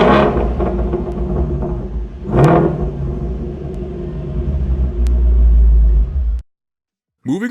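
Ford Shelby GT350 Mustang engine rumbling loudly nearby, with deep revving swells, a sharp blip partway through and a heavy low roar, then cutting off to silence near the end.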